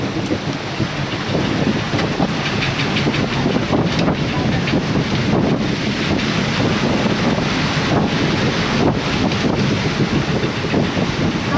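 Storm wind roaring at sea in the South Atlantic's Roaring Forties aboard a sailboat, a loud, continuous broadband gale buffeting the microphone with sea wash beneath, steady throughout without speech.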